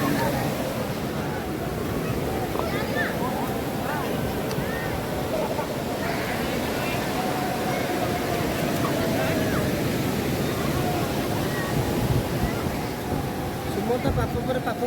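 Sea waves on the shore at Puri beach: a steady, loud, broad wash of surf runs throughout, with a busy crowd murmuring in the background.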